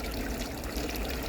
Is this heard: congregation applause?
no